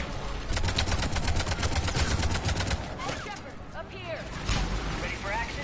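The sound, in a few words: gunfire in the video game Mass Effect 3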